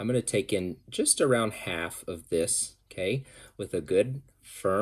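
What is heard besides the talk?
No everyday noises stand out.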